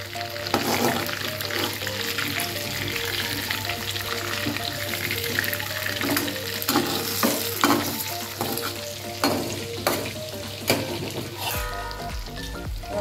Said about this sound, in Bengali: আর এদিকে ইলিশ মাছ ভাজা হচ্ছে।